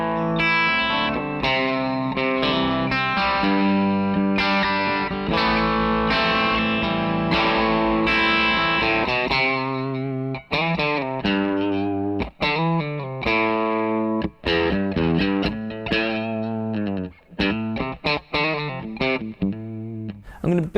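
Electric guitar driven through a Greer Amps Lightspeed Organic Overdrive pedal with all knobs at noon, loud crunchy chords and riffs with short choppy stops in the second half.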